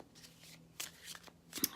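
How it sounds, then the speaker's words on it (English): A Gilded Tarot card deck being shuffled by hand, giving a few quick, soft, papery riffles and flicks, close and fairly quiet. "So shuffling here now the Gilded Tarot deck for you guys."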